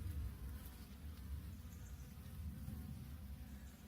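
Honey bees buzzing at a hive, a low, dense, continuous drone of many insects close by, slightly swelling and fading.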